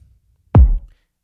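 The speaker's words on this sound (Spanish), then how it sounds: "un kick" One deep, punchy kick drum sample for a baile funk beat, a single close thump with a sharp attack and a short booming low tail, alone.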